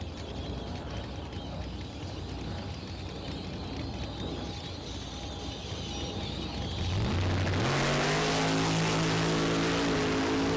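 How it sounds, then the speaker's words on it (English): Drag race cars launching at the Street Car Super Nationals on The Strip at Las Vegas Motor Speedway, one lighting up its tires; a steady engine drone suddenly swells at about seven seconds into a loud, close, rising roar. "Ragosa goes right down Broadway, but Lind just lights the tires up."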